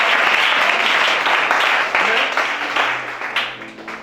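Loud, dense applause from a church congregation at a deliverance service, sustained clapping that tapers off near the end, with a few voices rising through it.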